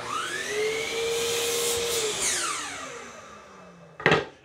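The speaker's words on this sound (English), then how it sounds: "I'm gonna cut that to length on the miter saw" Miter saw cutting scrap wood to length, a loud whining blade that holds steady for about two seconds, then winds down in falling pitch, followed by a sharp clack near the end.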